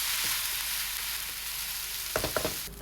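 Rice and broccoli in a frying pan, a steady close sizzle with a quick run of stirring clatters near the end, no speech.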